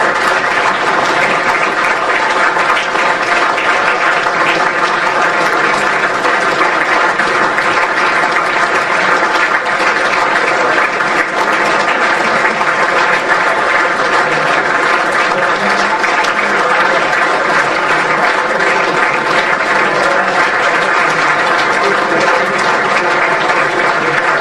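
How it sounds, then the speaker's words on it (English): A football club end-of-season awards audience gives sustained applause to the Doncaster Rovers squad, a dense, loud, unbroken wash of many hands clapping throughout, with faint crowd murmur beneath. "A big round of applause, everybody."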